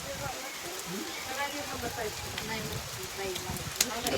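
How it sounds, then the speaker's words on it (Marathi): Steady rain patters across everything in a constant hiss at a temple near Pune, with wind, a voice talking underneath and a few louder drips. "पाऊस पडतंय"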